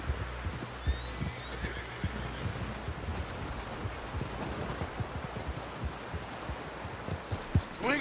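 A horse in the video game Red Dead Redemption 2 gives a brief whinny early on, over a busy bed of wind, surf-like noise and dull thuds, with no speech.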